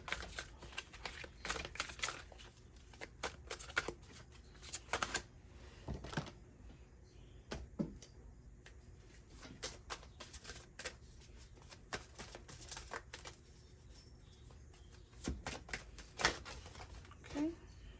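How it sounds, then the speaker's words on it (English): Tarot cards shuffled and handled during a reading, a quiet run of soft flicks and riffles in scattered bursts with pauses between, heard close by with a voice talking at times. "I'm going to pull a card for the top."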